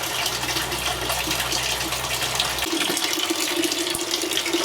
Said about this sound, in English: I'm just topping up the water in the HLT, which is the hot liquor tank.